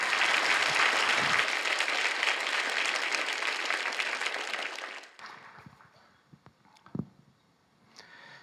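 Warm applause from a church congregation at a youth group retreat, a dense sustained clapping wash for about five seconds that then drops away to scattered claps and faint room sounds.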